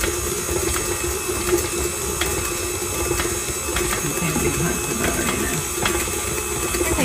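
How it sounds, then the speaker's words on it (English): An electric stand mixer runs at medium speed while mixing cake batter by the reverse creaming method, giving a steady, dense whirring drone with a faint rhythmic rattle throughout and no speech. "So I've just stopped my mixer so I can check on it."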